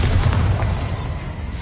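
Spell explosion in the Hogwarts Legacy video game: a deep, rolling boom that fills the low end and slowly fades over under two seconds, loud and close, with no voices.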